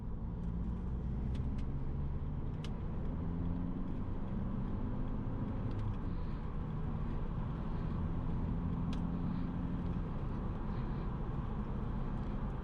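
Cabin of a 2008 Volkswagen Passat B6 with a 105-horsepower engine accelerating on the road, a steady low engine drone rising gradually under road and tyre noise, with no talk.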